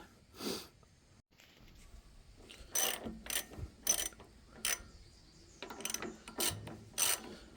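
A socket wrench ratcheting on the front brake caliper bolts of a 2013 Harley-Davidson Road King, quick bursts of metallic clicking in short irregular strokes, close and fairly quiet, with no voices.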